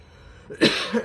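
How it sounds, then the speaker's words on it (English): A single sharp cough bursts out after a quiet moment, close and loud, followed by a short second rasp. "Me coughing right there"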